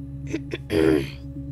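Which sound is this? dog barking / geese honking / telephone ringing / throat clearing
throat clearing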